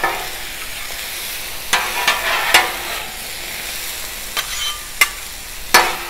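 Heavy-duty metal Blackstone spatula chopping shrimp stir-fry on a 36-inch Blackstone griddle, several sharp scraping clacks spaced irregularly over a steady close sizzle, no talking.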